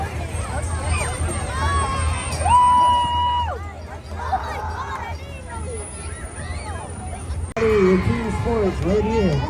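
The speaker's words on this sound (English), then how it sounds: "Make some noise for the Kowloon 10U." A noisy parade crowd greets Kowloon youth sports teams with steady hubbub, shouts, high whistles and scattered screams. The sound is loud and continuous, with a brief drop near the end before the crowd noise swells again.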